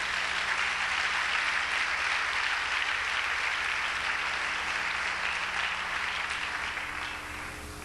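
Congregation applauding during a church service, a sustained, even wash of clapping from many hands that fills the room for several seconds and thins slightly at the end.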